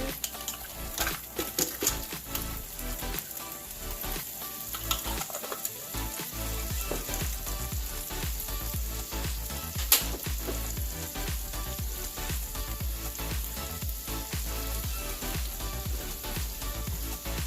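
Vegan shrimp and grits mixture cooking down in a pan, a steady close sizzle and crackle with occasional stirring scrapes and clicks, continuous throughout with no talking.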